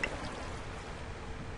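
A waterfall in the Minecraft video game gives a steady, soft rushing flow of water, continuous and even throughout with no voices.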